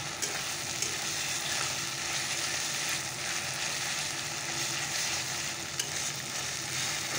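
Cumin paste sizzles and spits in hot oil in a frying pan, a dense, continuous crackle that holds steady and close throughout with no voices.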